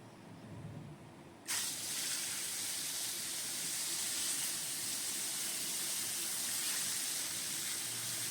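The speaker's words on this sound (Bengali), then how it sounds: "কাতলা মাছগুলো এবার ভেজে নেবো" Sizzling hiss of katla fish frying in hot mustard oil in a wok starts abruptly and stays loud and steady, a dense crackling spray of sound with no talking.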